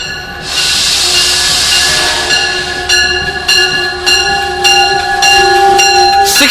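Metro North and Amtrak trains passing at Cold Spring station on a clear day, a steady loud rumble of railcars with ringing metallic tones and rhythmic wheel clacks, plus a brief horn-like tone near the end.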